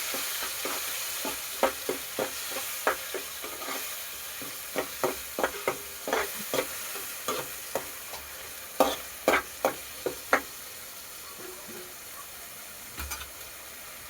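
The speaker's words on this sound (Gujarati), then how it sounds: "પછી એને આપણે મિક્સ કરી નાખવાનું આ રીતનું" Spoon scraping and stirring suran (elephant foot yam) curry with onion and tomato in a sizzling pan, a steady frying hiss under a string of sharp, regular stirring knocks, close and alone.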